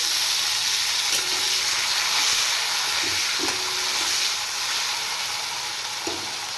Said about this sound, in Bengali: পেঁয়াজ ফ্রাই হয়ে গেছে দিয়ে দিচ্ছি টমেটো